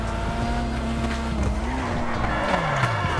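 Tires of a Mini John Cooper squeal and skid through a sharp turn in GTA5, a continuous loud screech over steady engine drone with the pitch sliding and dipping near the end.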